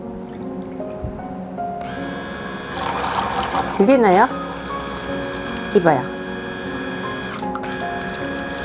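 A hand blender running in a soap mixture with air bubbles, a steady motor whine that wavers and surges under a voice speaking.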